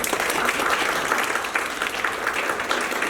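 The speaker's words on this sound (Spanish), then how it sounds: "Un aplauso para el doctor Llama." Audience applause at a scientific symposium on genomic surveillance of pathogens, a dense, steady wash of many hands clapping at once, fairly loud and continuous from start to finish with no voices over it.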